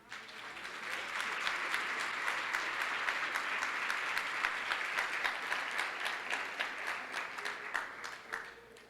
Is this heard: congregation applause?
yes